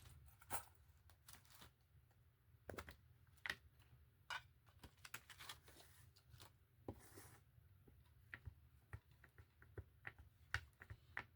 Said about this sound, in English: So I've got my typewriter here.